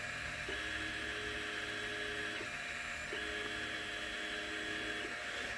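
A Longer Ray5 laser engraver with a rotary roller attachment running a test, turning a can; a steady mechanical whir with two repeated motor hum passes, close and moderate in level.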